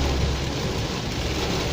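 Heavy rain pounds a moving car during a drive, a dense, steady roaring hiss close around the cabin with no break and no voices.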